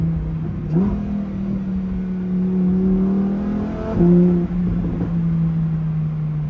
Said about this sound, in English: those snaps, crackles, and pops are just intoxicating